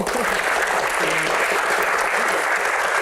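Audience applause at a comedy show, a thick, continuous burst of clapping from a large crowd, steady and loud for the whole moment with no talk over it.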